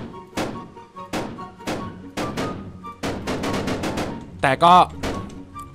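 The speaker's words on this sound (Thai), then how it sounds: "ยิงเป็นปืนกลได้เลยนะเนี่ย" Gunfire from a gun mod in Minecraft, a series of sharp loud shots, first spaced out and then in a quick burst, with a brief spoken word near the end.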